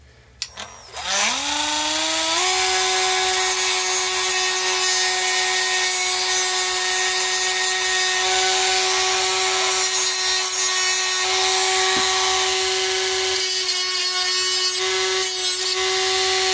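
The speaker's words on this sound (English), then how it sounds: "So now we just need to grind that down until that doesn't exist." A power tool grinds down a part for a handmade trophy, spinning up with a rising whine and then holding a loud, steady grinding tone for the whole stretch.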